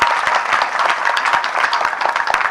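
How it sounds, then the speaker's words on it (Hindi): An audience breaks into sustained applause at a spiritual discourse, dense overlapping clapping from a crowd that stays loud and even throughout. "ताली लगा दो इस बात के लिए।"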